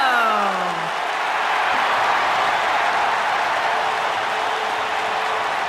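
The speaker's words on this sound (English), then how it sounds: "Get on your feet and applaud over there, Suxton." A wrestling arena crowd in the WWE 2K19 video game roars and applauds for Chris Jericho's entrance, a dense, steady wash of cheering and clapping with a falling synth sweep at the start.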